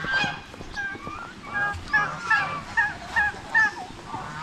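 Geese honk repeatedly nearby in a steady series of loud, nasal calls over a noisy outdoor background.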